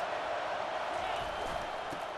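A packed college football stadium crowd roars continuously late in a game as the opposing team is pinned deep near its goal line, a dense steady wall of cheering with play-by-play commentary over it.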